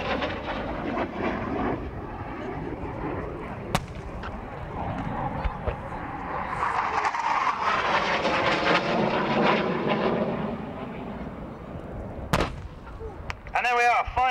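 Military aircraft roar overhead during an air day commando assault demonstration at Yeovilton, the engine noise swelling and fading amid sharp explosive bangs from dropped bombs, heard from a distance in open air.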